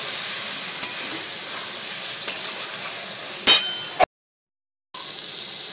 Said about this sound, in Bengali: জল দিয়ে বন্ধুরা একটু মশলাটাকে কষে নেব।